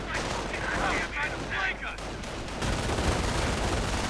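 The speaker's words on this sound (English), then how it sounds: "Quite a bit of firepower being directed against those riflemen" Heavy video game gunfire in a World War II strategy match, with an LMG-42 machine gun pouring sustained bursts at riflemen amid a dense, continuous wash of battle noise and explosions, loud and close.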